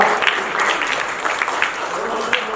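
An audience at a film poster launch applauds in a continuous loud burst of clapping, with a voice speaking over it.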